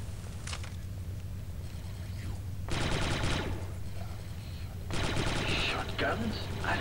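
Repeated shotgun blasts in the sci-fi shooter Star Wars Republic Commando, two loud bursts of firing over a steady game background hum with speech mixed in.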